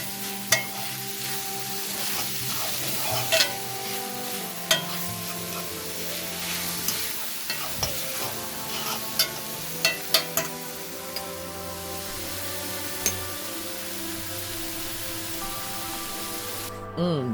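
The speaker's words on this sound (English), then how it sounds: "I'm going to mix this up and let this saute together really good also." Onions saute in a pan with a steady low sizzle while a spoon stirs them, scraping and knocking against the pan in scattered sharp clicks throughout.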